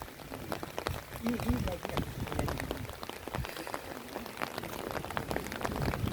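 Rain falls steadily on a cool evening at Upper Pelling, a continuous close patter of drops on surfaces with scattered sharper splashes, heard alongside a voice speaking throughout.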